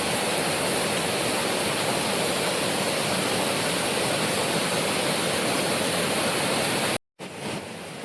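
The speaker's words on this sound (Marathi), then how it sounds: "तुम्ही बघू शकता किती सुंदर धबधबा आहे आणि पाणी देखील मस्त शांत बघू शकता" A hidden white waterfall in the Sahyadri hills near Savarwadi, Karjat, gives a loud, constant broadband roar of falling water, close and unbroken, with a brief dropout near the end before resuming; no speech.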